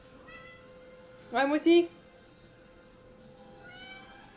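A pet cat meows twice in quick succession at close range, a short pitched call amid a quiet indoor room, with people talking briefly before and after.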